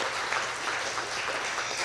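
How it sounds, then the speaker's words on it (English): Steady applause from an audience at an awards presentation during an annual meeting, a dense, even wash of clapping that holds for about two seconds without pause. "That deserves a round of applause."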